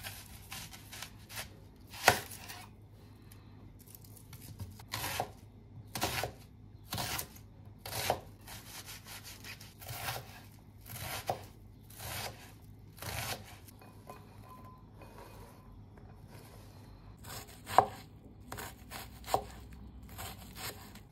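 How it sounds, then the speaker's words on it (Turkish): Knife chopping a dry onion on a cutting board in sharp, uneven strokes, with a few louder thuds and quieter pauses between bursts, close and clear with no talking. "Şimdi favada kullanacağım bir adet kuru soğanım var. Onu doğrayacağım."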